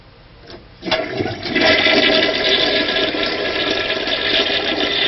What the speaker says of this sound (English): Drop the wrapped flusher bulb into the bowl and flush the commode.